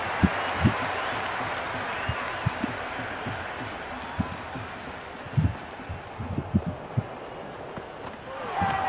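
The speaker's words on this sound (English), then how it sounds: "The crowd is electric right now." A cricket stadium crowd at a T20 match between RCB and Mumbai Indians roars and applauds in a steady wash, punctuated by claps and thumps, with commentary heard faintly.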